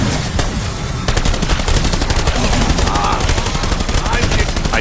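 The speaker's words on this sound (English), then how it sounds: "Shoot him in the head, shoot him in the head." Rapid gunfire from a Call of Duty: Vanguard zombies match, loud and sustained, with dense repeated shots running nearly throughout and game sounds layered beneath.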